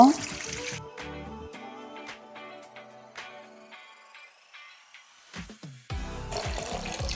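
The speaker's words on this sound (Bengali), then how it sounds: "এবার এই বোলটার মধ্যে জল ঢেলে নেব" Water pours into a bowl to soak ash gourd pieces, heard as a rushing splash at the start and again near the end, with music playing underneath.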